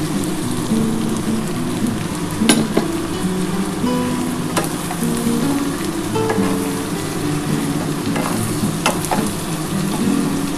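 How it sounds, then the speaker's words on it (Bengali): Potato and pumpkin pieces frying in oil in a pan, with eggplant about to be added, give a steady close crackling sizzle that runs throughout, broken by a few sharp clinks of a utensil. "আমার কিন্তু আলু কুমড়োটা কিন্তু একটু লাল হয়ে এসছে এবার আমি বেগুনটা দিয়ে দেবো"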